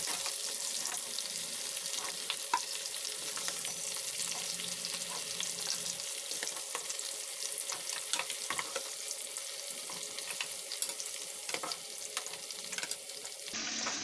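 Food frying in hot oil in a pan while cooking Lahori murgh channay, a steady close crackling sizzle with scattered pops and occasional stirring, no talking, ending with a brief clatter.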